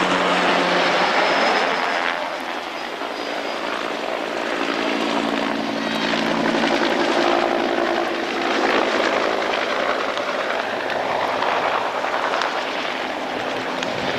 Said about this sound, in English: infantry platoon rapidly deploys his UH-60 Black Hawk helicopter